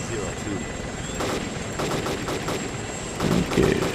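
An AH-64 Apache helicopter in the video game Arma 2 firing its gun at a UAV, rapid bursts of gunfire over a constant rotor drone, with a louder burst near the end.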